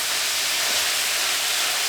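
Garlic and ginger frying in a pan for a Sri Lankan black pepper chicken, giving a loud, steady sizzling hiss that runs unbroken and close.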